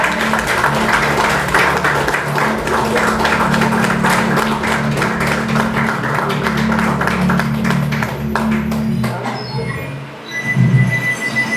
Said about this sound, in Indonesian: Mari berikan tepuk tangan yang meriah.